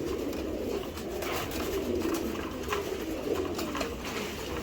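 A red checker pair of racing pigeons, male and female, coo in low rolling phrases close by, steady throughout against a busy background with no talk.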